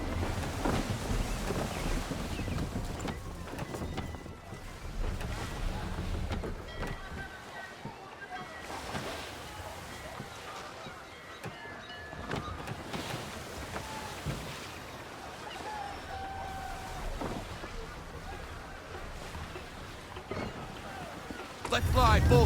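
A sailing ship at sea in Assassin's Creed III, with wind rushing steadily and water sloshing against the hull, loud and continuous throughout, mixed with voices shouting over it.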